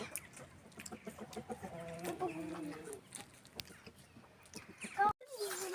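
Chickens cluck softly nearby in a village amid outdoor rustling and scattered voices, ending with a brief cut and a louder squawk.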